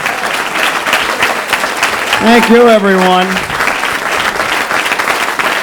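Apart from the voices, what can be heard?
audience applause for comedian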